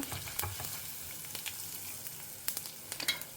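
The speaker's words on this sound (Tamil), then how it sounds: "இதை கொஞ்சம் நல்லா செவக்க வறுத்துக்கலாம் பருப்பெல்லாம் நல்லா செவந்துடுத்து கடுகு வெறிக்க ஆரம்பிச்சிடுத்து" Dal and mustard seeds fry in hot oil with a soft sizzle, punctuated by sharp, scattered pops and crackles as the seeds splutter, clustering more densely toward the end.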